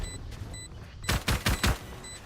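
Deployed turret in a tactical shooter match firing a short burst of four sharp, rapid shots against low background game ambience, with no talk.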